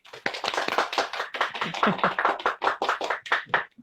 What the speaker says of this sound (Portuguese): a gente vai bater palmas pelo nosso trabalho e por ti, Ellen